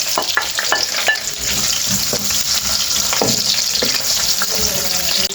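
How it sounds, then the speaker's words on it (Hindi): Two onions fry and brown in a pot for vegetable biryani, a loud, continuous crackling sizzle close by with occasional stirring scrapes and pops. "2 प्याज है, मैं इसको करूँगा ब्राउन।"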